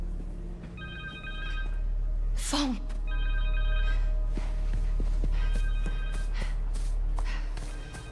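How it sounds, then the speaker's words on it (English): A cell phone in the PS5 game Marvel's Spider-Man 2 rings in repeated electronic bursts over a low rumbling game ambience, with a sharp sweeping effect and scattered taps between the rings. "Connor's cell phone"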